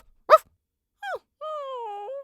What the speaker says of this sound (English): It was a clever dog who smelled the musubi and was asking for one.